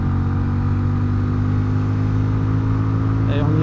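A Benelli 400 Imperiale motorcycle pulling hard in third gear, a steady, loud single-cylinder engine drone holding a high, even pitch throughout, with faint wind noise near the end.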